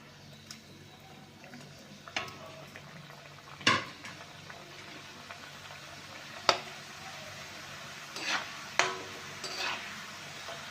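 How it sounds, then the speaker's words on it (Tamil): Masala snack bites deep-fry in hot oil in a kadai, giving a faint, steady bubbling hiss with a few scattered clinks and scrapes of a utensil, no voices. "இப்போ கட் பண்ணி வச்சுருக்கிற இந்த பைட்ஸ் எல்லாத்தையும் போட்டு பொரித்து எடுத்துக்கலாம்."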